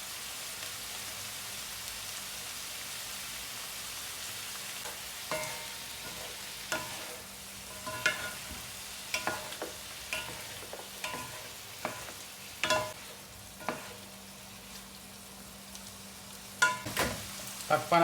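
Sliced mushrooms and broccoli sauté with oyster sauce in a hot pan, giving a soft steady sizzle broken by scattered scraping and stirring clicks from a utensil, fairly quiet and close, with no one talking.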